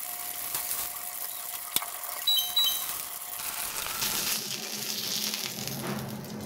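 Small hilsa fish frying lightly in hot oil for hilsa pulao, a soft, steady sizzle with a sharp clink early on and a quieter hiss toward the end.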